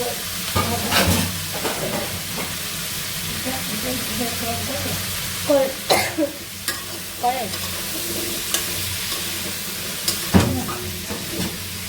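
Curry with turmeric, salt and chilli frying in a pan on a rooftop, a steady low sizzle broken by several sharp spoon scrapes and stirring knocks.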